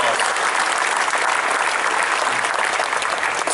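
Dense, steady applause from a large audience fills the space at a statue unveiling ceremony honoring Archie Griffin in the Ohio Stadium rotunda, sustained and loud throughout without a break.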